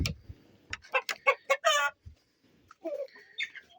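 Chickens cluck in a series of sharp, close calls with a rooster's strained cry among them, broken by short pauses and scattered quieter clucks.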